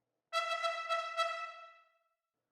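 A bright trumpet fanfare played with a staccato patch: quick, detached repeated notes in a rapid burst, then a short ringing fade into silence.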